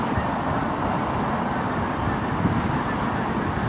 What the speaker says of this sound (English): Geese are flying off.